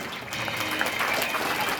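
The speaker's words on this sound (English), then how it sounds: "Give them a huge round of applause, all of you, to all the ministers." Audience applauding the ministers at a school investiture ceremony, a sustained burst of many hands clapping together.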